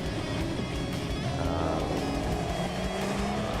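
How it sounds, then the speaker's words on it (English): A car making a quarter-mile drag racing pass at Beach Bend in Bowling Green, Kentucky, its engine roaring steadily and loud throughout, with no talk over it. "This was the first time I did a quarter-mile pass"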